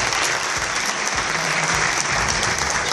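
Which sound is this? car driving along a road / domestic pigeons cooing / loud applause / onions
loud applause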